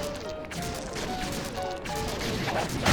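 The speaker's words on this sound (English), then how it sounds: "Smashing things." Objects being smashed in the video game Sly 2: Band of Thieves, a busy run of crashing and whacking impacts over constant game music and effects, loud and close throughout.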